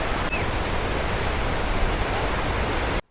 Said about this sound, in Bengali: পিছনে ঝর্ণা জলটা যে পড়ছে ধোয়ার মতো বেরিয়ে যাচ্ছে